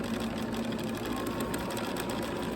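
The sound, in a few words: sewing machine stitching a t-shirt dress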